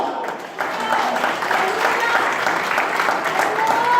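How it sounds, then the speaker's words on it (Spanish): A church congregation applauds, a dense wash of clapping that builds after a brief dip and holds steady, loud and close, with voices mixed in. "Dele un aplauso al Señor."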